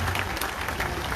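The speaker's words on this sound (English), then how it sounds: "What are you clapping for?" Crowd clapping at a street protest, a dense continuous patter of many hands over a short stretch, fairly close and steady with no talk over it.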